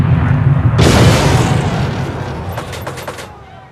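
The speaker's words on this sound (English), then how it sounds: "We just heard the bang." A deep, loud explosion bursts out as a merchant ship in a WW2 Atlantic convoy is torpedoed by a U-boat, a sudden boom followed by a rumbling decay with a few crackling impacts.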